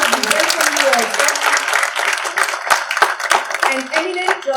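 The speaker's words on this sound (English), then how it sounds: "So with a huge round of applause, we welcome you also." An audience at a Chandigarh University talk show gives a loud, dense round of applause to welcome the speakers, sustained sharp clapping from a large crowd throughout, with a voice briefly audible.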